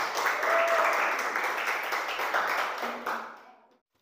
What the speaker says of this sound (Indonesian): Kita berikan aplaus kepada kelompok ketiga.